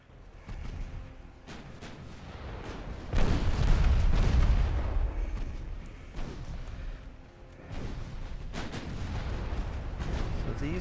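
Naval artillery booms from warships in Ultimate Admiral Dreadnoughts, a heavy, rolling barrage of gunfire with overlapping blasts and a sustained loud salvo in the middle, steady battle rumble throughout, no talking.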